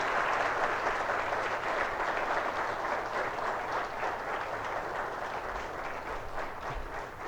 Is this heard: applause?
yes